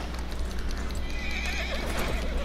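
A horse in Red Dead Redemption 2 whinnies over a steady low background rumble, with faint clip-clop of hooves, moderately loud and alone without speech.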